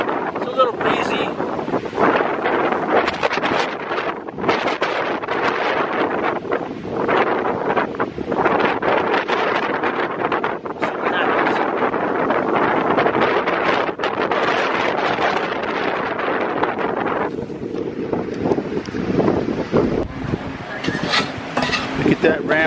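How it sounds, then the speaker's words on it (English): Breezy wind blows outdoors at Eldora, buffeting the microphone with loud, continuous rumbling gusts that rise and fall over the whole stretch. "It's a little breezy."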